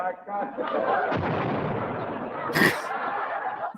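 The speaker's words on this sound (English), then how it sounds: "Sounds like a cannon." A deep, cannon-like boom rumbles close by, with voices and a chuckle mixed in around it.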